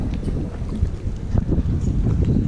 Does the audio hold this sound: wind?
yes